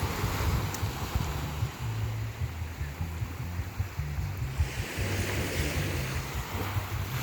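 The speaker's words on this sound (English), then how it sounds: "The sounds of the waves." Ocean waves breaking on a Hawaiian shore at golden sunset, a steady continuous wash of surf with some wind noise on the microphone and a low rumbling undertone throughout.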